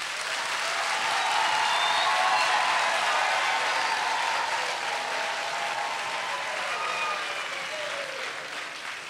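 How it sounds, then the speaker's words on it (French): Women in a concert audience at a Kimbanguist music concert in Brazzaville applaud together, a steady, moderately distant wash of clapping that swells and slowly fades over about nine seconds, with no talk. "Que les femmes applaudissent toutes seules."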